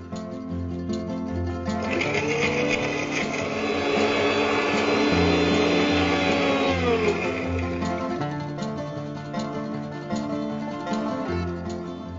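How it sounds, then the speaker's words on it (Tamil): A kitchen mixer grinder runs steadily, grinding coconut for a coconut-rice vada batter, with a loud continuous motor whir that swells and holds for several seconds before easing off. "முதல்ல தேங்காய் அரைச்சுக்கலாம்."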